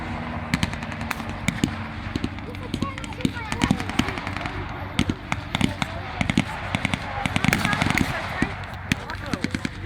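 Blank gunfire crackles through a WW2 re-enactment battle with tanks and aircraft, a scatter of sharp cracks and short bursts over a steady engine drone, with voices talking in the background.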